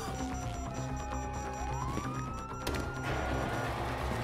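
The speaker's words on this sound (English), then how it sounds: "you hear that? Sirens!" Police sirens wail inside the Grand Theft Auto V video game, a rising and falling electronic tone that sounds moderately loud over game noise and rumble.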